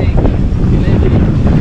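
Strong gusts roar across a riverside camp on the Paraná River, a loud, continuous rumble buffeting the microphone and drowning out everything else.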